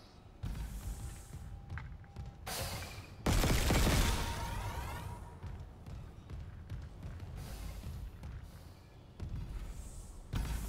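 Live-fire shooting range in the Dead Space video game: a heavy burst of gunfire and impacts rings out, followed by ringing echoes and quieter mechanical clatter and ambience.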